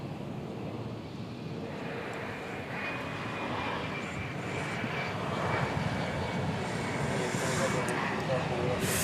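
A Finnair airliner turning onto runway 18 left at DFW Airport, its jet engines giving a broad, steady roar that swells slightly louder toward the end, fairly close and constant throughout.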